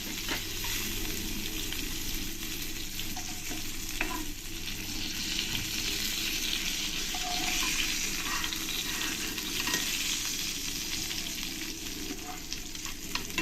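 Fried pointed gourd pieces are lifted out of hot oil, over a steady, fairly soft sizzle with occasional light clinks of a utensil. Nobody speaks.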